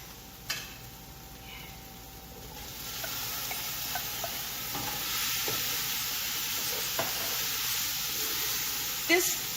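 Meat returned to a pot of briefly cooked garlic for lasagna soup sizzles steadily, a moderately loud frying hiss with occasional stirring clicks and scrapes that builds after a quieter start.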